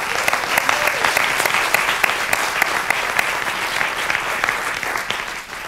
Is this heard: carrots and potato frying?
no